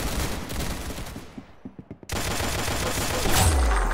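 Bursts of rapid gunfire in the Roblox video game, a dense volley that fades, then a few separate shots ring out before the shooting resumes loud and sustained.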